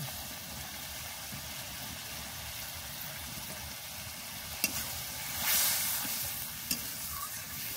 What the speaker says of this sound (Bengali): এখানে আরেকটু জল দিয়ে দেব।